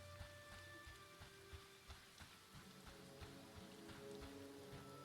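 Soft, steady rainfall in the indie MMORPG Monsters & Memories patters faintly and continuously, with irregular light drops and drips tapping over a low ambient hum.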